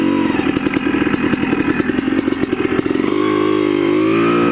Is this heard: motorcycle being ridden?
yes